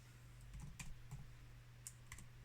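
Faint, sparse keystrokes tap on a computer keyboard as a short command is typed, a few quick clicks over a low steady hum.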